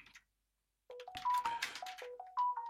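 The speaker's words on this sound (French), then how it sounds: "mon téléphone sonne comme d'habitude à chaque vidéo" A mobile phone rings nearby with a bright electronic ringtone of short repeated melodic beeps after a brief silence, loud and clear with no talk over it.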